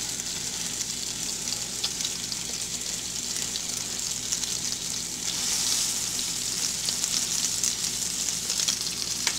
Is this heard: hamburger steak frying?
yes